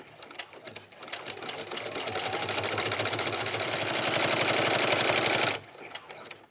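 A sewing machine with a walking foot stitches a fabric strap, its fast, rhythmic needle clatter speeding up to a steady run before stopping, close and moderately loud.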